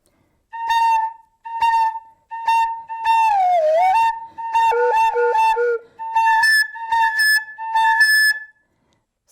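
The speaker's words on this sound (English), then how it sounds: "I will now play some sounds on just the head joint of the flute" Breathy, whistle-like tones from a flute head joint played alone: a series of short separate notes, then sliding pitches and quick trills, bright and close.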